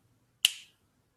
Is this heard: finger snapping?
yes